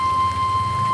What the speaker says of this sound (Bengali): বৃষ্টি কিন্তু শেষ হয় নাই